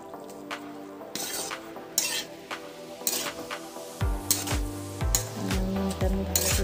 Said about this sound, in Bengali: নুনটা আমি ভালো করে মিশিয়ে দিই